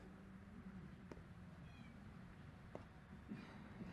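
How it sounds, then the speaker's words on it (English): A house cat meows a few times, faint and somewhat distant, over a steady hiss of background noise, with short gaps between the calls. "my cat is being a nuisance"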